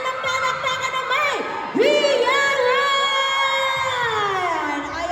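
Crowd at a screening event cheering and whooping loudly, with sustained shouted voices rising and falling throughout; no clear clapping stands out beneath the cheers.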